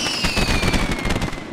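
Fireworks burst in a video game, a rapid cluster of crackling pops and whistling streaks, loud and close.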